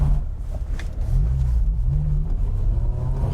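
A V10 BMW M6 engine rumbles low and steady at close range, with a few faint pops from the exhaust; nobody speaks.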